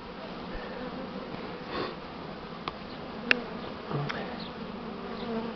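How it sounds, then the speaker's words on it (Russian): Honey bees buzz steadily in an apiary during daily swarming, a dense close hum with a few louder bees passing near and faint voices in the background. "Пчела хорошая, это медоносная"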